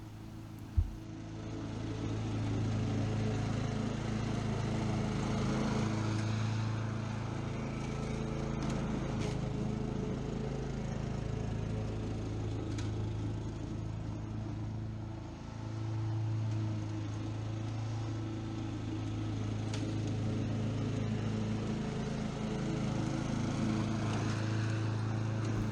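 A lawn mower runs steadily through the whole stretch, its engine drone constant and fairly close, with no voices over it during the first mow of the year.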